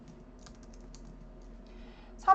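Quiet typing on a computer keyboard, a handful of soft scattered keystrokes over faint room hiss, ending in a slightly louder key tap, with no talk.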